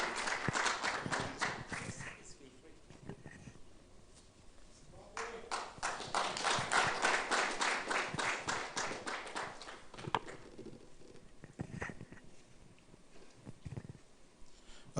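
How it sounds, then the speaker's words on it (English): Audience applause at an Africa Blockchain Incubation Program demo day, clapping rising in bursts, fading, then swelling again at moderate distance, with some voices mixed in. "Yes, ladies and gentlemen, a round of applause."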